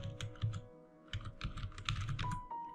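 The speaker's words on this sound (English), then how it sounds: "type in testimonial." Typing on a computer keyboard while entering a search term into a WordPress page builder, a close, brisk patter of key clicks in a short uneven run with a brief pause partway through.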